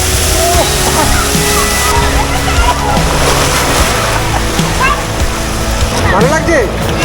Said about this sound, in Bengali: জল পড়ছে বেশ ভালো লাগে